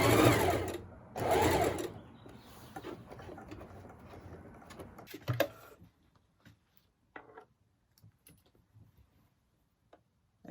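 A sewing machine runs loudly in a continuous burst for several seconds while stitching pleats on a fabric mask, then stops, followed by faint scattered clicks and handling noises.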